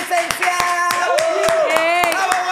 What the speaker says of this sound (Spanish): Un aplauso para la licenciada